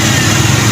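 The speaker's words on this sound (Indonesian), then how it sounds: "sekarang kita nyalakan dulu mesinnya" A Toyota Kijang 7K car engine just started and running, a loud, dense, steady mechanical drone close to the microphone, with no voices.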